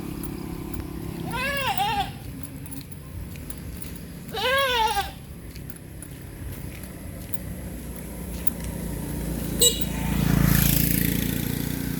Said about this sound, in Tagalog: maingay yung maingay yung kambing